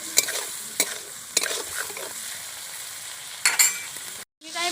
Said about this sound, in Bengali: এবার আমি একটু ভাজা ভাজা করে নেব চিংড়িটা।